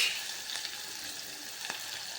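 Green chili, tomato and garlic frying in oil for a mung bean curry, a soft continuous sizzle with a couple of faint stirring scrapes, quiet and close, no voices.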